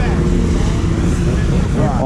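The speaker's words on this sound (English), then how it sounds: "Some of the sleds are ridiculously loud." A loud straight-piped snowmobile roars at a snowmobile drag race, a harsh, close, continuous engine blare with rough throbbing exhaust across the whole brief burst.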